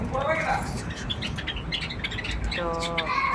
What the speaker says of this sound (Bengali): দেখেন অনেকগুলা ঘুঘু পাখি পালছে